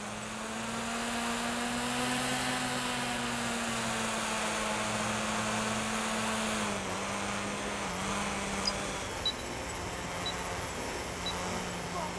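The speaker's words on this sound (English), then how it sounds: "drone" Drone in Watch Dogs Legion hovering with a steady buzzing rotor whine, close and continuous, pitch dipping slightly as it moves, with a couple of faint clicks near the end.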